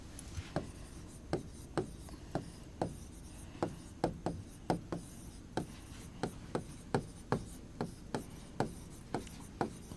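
Chalk or marker scratching across a board during a classroom science lesson, written in quick irregular strokes and taps that come close and steady for the whole stretch, with no talking.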